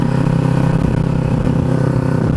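A 250cc Ninja motorcycle ridden at speed, its engine droning steadily with a dense, buzzing hum and wind rush, loud and close throughout.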